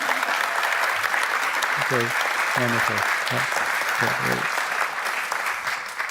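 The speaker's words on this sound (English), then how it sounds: "Another round of applause," An audience at a global summit award ceremony claps in loud, sustained applause that fills the whole clip, while a presenter speaks briefly over it.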